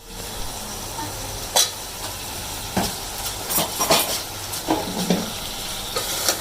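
Potatoes and spices fry in a pan for gawar phali aloo sabji with a loud, continuous sizzle, punctuated by scraping and knocking strokes as the mixture is stirred.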